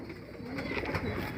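A pure Abri pigeon, a female kept by a fancier, coos softly in a steady murmuring run, close by and alone with no talk over it.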